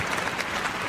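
Dense, even applause from a large crowd at a Crufts obedience display fills the space, a continuous wash of clapping with no breaks.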